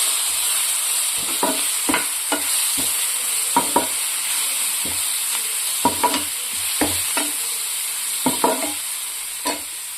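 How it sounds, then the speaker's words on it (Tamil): Masala powder being stir-fried in a pan for a crab fry. Repeated sharp scrapes and clinks of a spoon against the pan come in irregular bursts over a low, steady sizzle. "அந்த மசாலாவை நல்லா மிக்ஸ் பண்ணிக்கலாம்."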